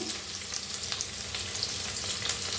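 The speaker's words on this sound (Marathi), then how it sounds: "भाजून घेऊया कापून घेतलेली शिमला मिरची" Chopped capsicum frying in a pan for cabbage manchurian, giving a steady, close crackling sizzle with a few louder pops, and no voices.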